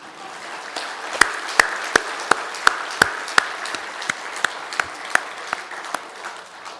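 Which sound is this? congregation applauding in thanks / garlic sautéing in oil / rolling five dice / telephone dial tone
congregation applauding in thanks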